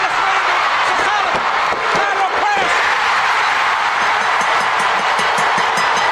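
A large wrestling crowd at NWA Starrcade 1988 roars continuously, a dense loud wash of cheering with some whistles and shouts that holds steady from start to finish.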